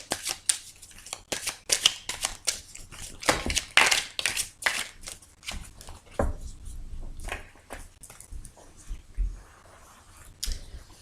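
Tarot cards are shuffled by hand before a reading, producing close, irregular riffling and slapping bursts with brief pauses between them.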